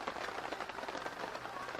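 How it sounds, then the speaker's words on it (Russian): A steady drizzling rain patters on a camp tent on a wild island. It is a dense, even hiss of fine drops that holds at a constant level with no voices. "Ну как, не конкретно ливень, но затяжной моросящий дождик."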